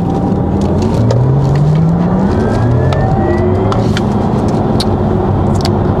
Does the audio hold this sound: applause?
no